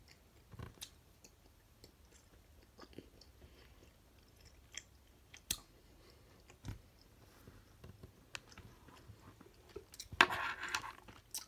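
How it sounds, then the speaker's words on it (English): Someone chews strawberry watermelon flamingo gummy candy close to the mic, producing quiet, scattered wet clicks and bites with a louder crunchy burst near the end. "It just takes a little bit for you to chew them."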